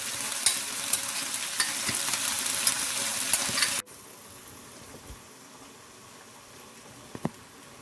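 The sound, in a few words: sweet and sour sauce sizzling in hot pan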